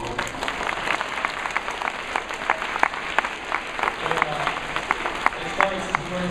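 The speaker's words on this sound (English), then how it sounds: "So give them a round of applause." Audience applause for a performing team at a school event, a steady wash of many hands clapping with sharp individual claps standing out, moderately close and continuous throughout, with faint crowd voices beneath.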